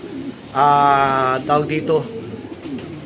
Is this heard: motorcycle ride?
no